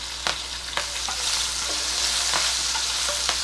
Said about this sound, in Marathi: आधी जरा शिमला मिरची परतून घेते